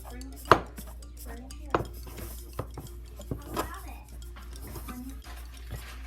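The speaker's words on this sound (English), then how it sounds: "You can see most meat is coated with potato starch." Pork pieces tossed in potato starch in a bowl, giving a few soft clinks and scrapes of utensil against the bowl with quiet rustling, close and intermittent, with no talking.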